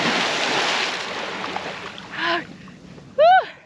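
A person enters cold water outdoors: a steady wash of water and wind noise, a softer burst, then a sharp, loud yelp near the end.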